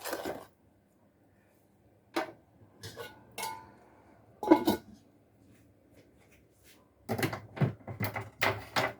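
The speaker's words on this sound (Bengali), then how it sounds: "এখন ঢাকা দিয়ে ফুটতে দেবো" A lid goes onto a pot of pineapple chutney on the stove. Several loud, distinct metallic clanks and clatters come up close, with quiet pauses between them.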